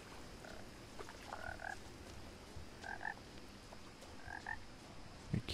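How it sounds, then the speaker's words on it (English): Frog croaking in the game What Remains of Edith Finch, short paired croaks repeating at intervals, faint against a quiet woodland hiss. "Let me find that frog."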